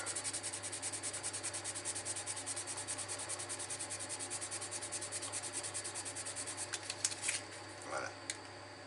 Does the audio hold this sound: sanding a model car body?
yes